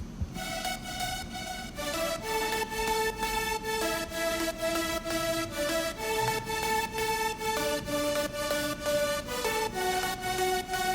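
A bright synth lead plays a rhythmic melody of repeated plucky notes in a steady pulsing pattern, prominent and up front, with no voices.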